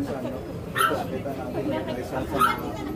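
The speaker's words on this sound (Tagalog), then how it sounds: "Kaso doon sa dulo may aso." A dog yelps and barks a couple of times at a distance along a quiet street, short separated calls mixed with faint background voices.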